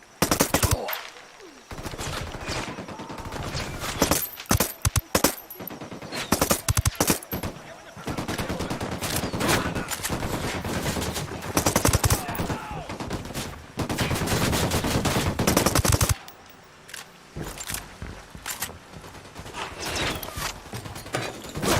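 Automatic weapons fire during a firefight in the tactical shooter Ghost Recon Wildlands: loud, sustained bursts of rapid gunshots with brief pauses between volleys, continuing through most of the stretch.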